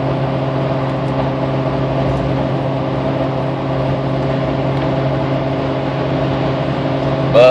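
A car engine drones steadily just after a downshift into fifth gear while cruising at about 74 mph, a layered humming tone over road noise that stays level, with a brief rise at the very end.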